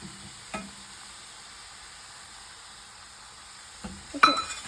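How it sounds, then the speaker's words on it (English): Mushroom fry seasoned with garam masala and salt sizzles faintly in a pan, with a few brief stirring scrapes and a clink of the utensil near the end. "now let's mix it for a while to get that taste."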